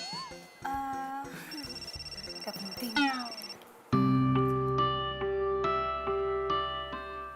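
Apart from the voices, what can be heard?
phone ringing with an incoming call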